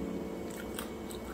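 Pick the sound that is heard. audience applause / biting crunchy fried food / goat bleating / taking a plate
biting crunchy fried food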